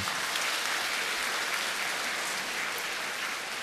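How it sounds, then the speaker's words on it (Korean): A church congregation applauds its meal volunteers and teachers, a broad, even wash of many hands clapping at once, sustained without pause and no voices on top. "우리 모든 식사 준비했던 손길, 또 교사들, 섬기미들 좀 박수로 좀 격려해 주시겠습니까?"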